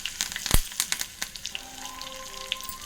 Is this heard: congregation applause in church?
no